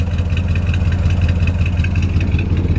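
A 1955 Ford F100 pickup's original Y-block V8 with side exhaust idles close by, a loud, steady low rumble with even mechanical clatter and no voices.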